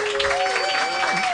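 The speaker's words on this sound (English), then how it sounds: "Round of applause for Jeff Davis." An audience at a live comedy podcast taping breaks into steady, dense applause with some cheering, a short continuous burst with a voice carrying over it.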